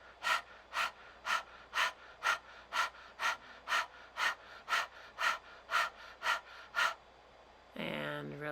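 Forceful yogic breathing with the tongue stuck out during a Hatha practice: about a dozen rapid, even, panting breaths in steady rhythm, close and clear, ending with a longer rushing exhale.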